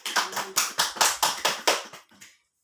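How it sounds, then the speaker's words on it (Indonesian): A small classroom group claps in about eight distinct bursts at a steady rhythm, close and fairly loud, tapering off into quiet at the end. "Mari kita berikan aplaus"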